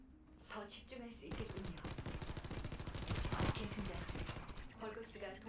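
Rapid automatic SMG fire in the sci-fi shooter The First Descendant, a dense rattling burst sustained for several seconds, loud and close, with a player talking briefly before and after it.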